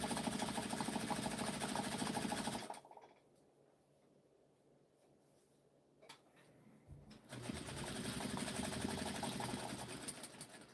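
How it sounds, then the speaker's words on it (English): Sewing machine stitching thin faux leather backed with denim stabilizer, a loud, fast mechanical whir running close up, stopping for a few seconds of near quiet with a small click, then starting again at full speed. "I'm actually going to stitch it together as one piece."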